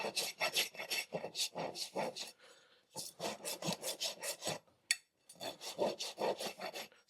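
A farrier's rasp works a horse's hoof in rhythmic, close scraping strokes, about a dozen rough passes in quick bursts with short pauses between them, loud and unaccompanied by talk.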